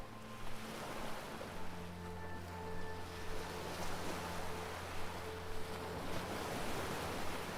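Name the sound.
ocean waves of the sea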